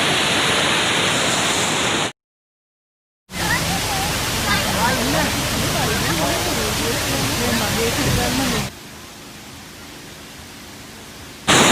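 A mountain waterfall in jungle terrain roars as a loud, steady broadband rush, broken by a brief gap of silence and later dropping to a quieter wash.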